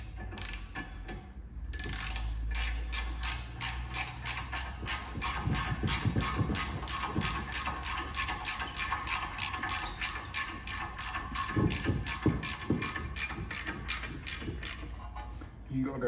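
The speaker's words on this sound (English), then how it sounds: "Get your Torx, reverse your ratchet." A reversed ratchet spins a Torx bolt on Vauxhall Mokka rear brakes, giving a long run of rapid, even clicks close to the microphone, with a few heavier knocks mixed in.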